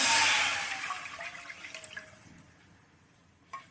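Tamarind water is poured into a kadhai on a gas stove, a loud gushing splash at first that trails off into lighter trickles and drips, then a brief final clink.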